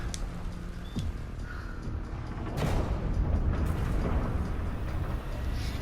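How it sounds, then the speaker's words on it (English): An exothermic breaching charge goes off in the Rainbow Six video game: a burst of loud, broad rumbling blast noise that swells and sustains for several seconds over a low ambient background. "An exothermic charge that can cut through metal"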